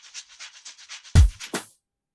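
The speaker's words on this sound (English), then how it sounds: "They sound like this, the shaker loop." Afro House shaker loop: a rapid, even run of soft, hissy shakes, followed by two louder percussive hits that cut off into silence.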